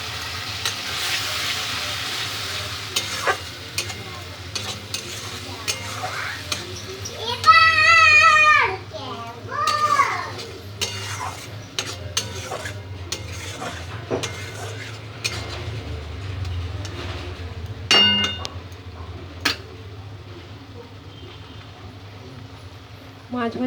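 Ginger, garlic and onion paste sizzles in oil with already fried onions in a pan for a prawn malai curry, a steady frying hiss running throughout with a few brief stirring clinks and faint voices in the background.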